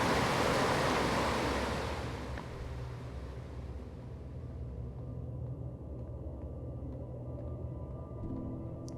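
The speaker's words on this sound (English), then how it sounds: "See, there's a waterfall, which will definitely knock me down." A waterfall in the Outer Wilds video game pours in a continuous broadband rush that starts loud and settles into a steadier, softer roar over nine seconds, with no talking over it.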